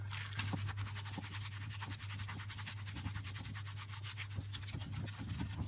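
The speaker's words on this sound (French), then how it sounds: "je vais aller mélanger ça avec ma farce" Stuffing being mixed in a dish for Niçoise stuffed vegetables, a close, continuous wet scraping and squelching with quick repeated strokes, steady and moderately quiet throughout.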